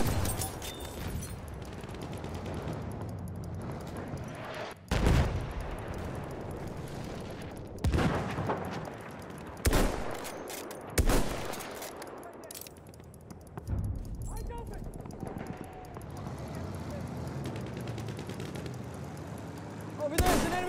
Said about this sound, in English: Enemy machine gun sighted!